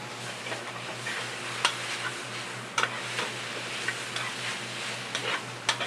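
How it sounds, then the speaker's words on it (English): Beef tenderloin caramelizing in butter in a hot pan, sizzling steadily at low level with a faint background hum and a few sharp clicks and scrapes of stirring scattered throughout. "As this caramelizes, it loses some of its ability to continue to cook."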